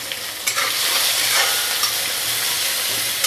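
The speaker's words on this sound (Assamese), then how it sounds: "গোটেইখিনি দি ধুনীয়াকৈ মগু দাইলখিনি মই ভাজি ল'ম।" Moong dal fries in a pan with a steady, bright sizzle and hiss, broken by a few soft scrapes of stirring.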